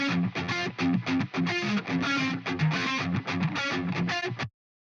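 Snappy, percussive electric guitar rhythm from a coil-tapped pickup driven into heavy distortion, playing tight staccato chugs with short gaps, loud and dry, alone for about four and a half seconds before cutting to silence.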